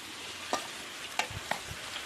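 Shallots and garlic fry in oil in a pan, a soft continuous sizzle with a few sharp scrapes and taps from stirring, close and without talk.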